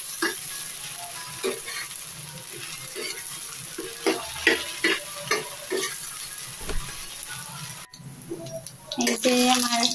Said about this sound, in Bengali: এই যে আমার ট্যাংরা মাছ ভাজা হয়ে গেছে